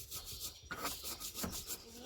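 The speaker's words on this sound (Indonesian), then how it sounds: "Kita haluskan bumbu yang tadi, bawang merah, bawang putih," Shallots, garlic and chili are ground into a paste in rhythmic rubbing, scraping strokes, close and moderately loud, with short repeated passes.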